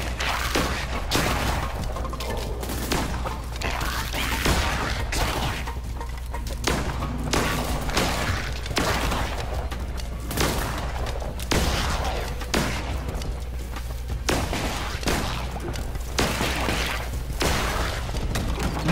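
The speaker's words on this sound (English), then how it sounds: "More shooting." Gunfire and impacts crackle through a combat scene in the video game Cult of the Lamb, a busy, steady stream of thumps, bursts and shattering hits over a low rumbling backdrop.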